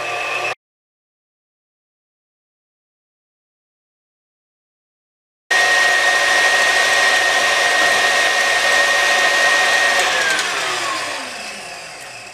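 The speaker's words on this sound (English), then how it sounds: "4 egg whites go into the mixer. And you get it going until they're nice and foamy." After a stretch of silence, an electric mixer whips four egg whites until foamy for a cheesecake. It gives a loud, steady motor whir close by that winds down and fades near the end.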